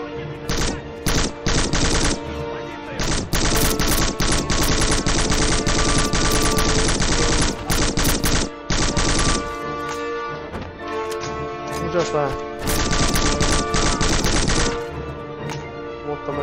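Rapid automatic gunfire from a retro shooter video game, Black: long dense bursts of shots with brief gaps, loud and close, continuing steadily across the whole stretch.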